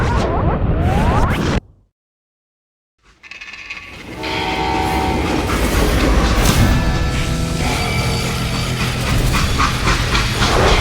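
A train in the Call of Juarez Gunslinger video game rumbles loudly, with a brief total silence early on before the roaring rail noise resumes and runs continuously, with whooshing and horn-like tones.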